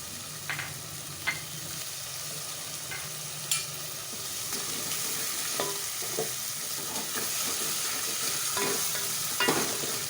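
Black chana curry with salt frying and being stirred in a pan, a steady soft sizzle broken by occasional light scrapes and clicks of the spoon, close and alone with no voices.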